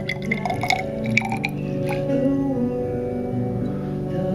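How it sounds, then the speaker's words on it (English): Water is poured into a laboratory measuring container for a density experiment, a close gurgling trickle with a few drips at first, settling into a steady filling tone as the level rises. "we're going to pour some water in here"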